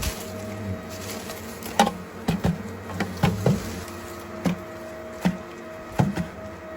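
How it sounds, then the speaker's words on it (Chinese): Golden-ringed giant hornets buzz around their nest outdoors, a faint continuous drone punctuated by repeated sharp close knocks and taps at irregular intervals, with no talking. "这个就是中国最大最毒的马蜂——金环虎头蜂"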